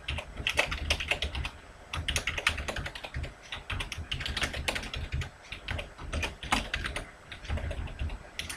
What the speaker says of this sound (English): I'm just going to type some labels.